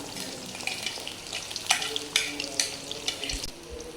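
Onion and garlic go into hot ghee in a kadai for a desi tori sabzi and crackle with a busy, close frying sizzle. Intermittent stirring scrapes punctuate the steady hiss. No talking.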